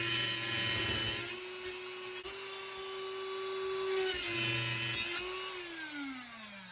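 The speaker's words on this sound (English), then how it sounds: "So we're just going to take this Dremel and cut right here and try to split that nut off." A Dremel rotary tool cuts into the nut of a kitchen sink basket strainer, giving a high, steady whine that dips and rises as the cutting wheel bites, close and loud with no talk.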